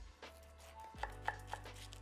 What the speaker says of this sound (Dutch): Watermeloen snijden we door de helft.